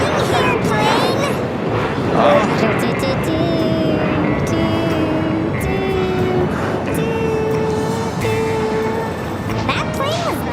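A loud airplane roars past at LAX airport, a sustained close engine drone with a shifting whine, while people talk over it.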